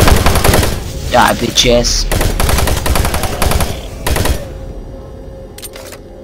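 Rapid, continuous chain gun fire from a co-op session of Doom 3, loud and close. It runs in sustained bursts that thin out near the end, with a player's shouted voice over the shooting.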